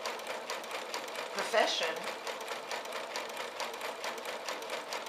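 A home sewing machine stitches a pettiskirt with a steady, rapid mechanical whir and ticking that runs throughout, fairly quiet and close, under a person's talk.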